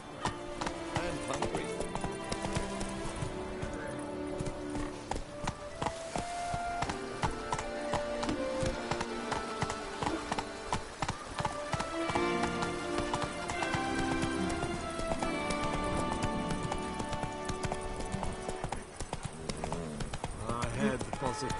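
Hooves of Roach, a horse in the video game The Witcher 3, clopping in a steady galloping rhythm, mixed with busy game sounds and music, with talk over it.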